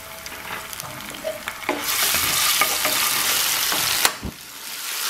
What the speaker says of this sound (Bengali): আমি হালকা করে ভেজে নেব পেঁয়াজগুলো